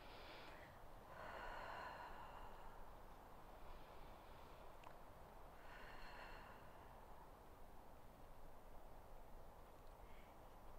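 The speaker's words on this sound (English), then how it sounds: "Inhale and exhale." Slow, steady breaths drawn in and let out during a hamstring and sciatic nerve flossing stretch, soft and close with broad airy hiss in repeated long swells, no talking.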